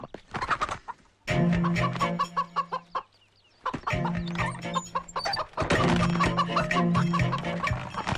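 A chicken clucks in bursts of rapid, close clucks separated by short pauses, loud and lively, with no speech over it.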